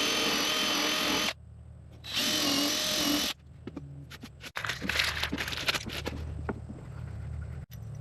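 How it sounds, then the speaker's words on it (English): A power drill whines loudly in two bursts, then slows into choppy, uneven whirring and clicks as it pre-drills a hole for a hanger bolt on a tiny house, close up. "I think I'm going to get a drill and pre-drill that down a little farther."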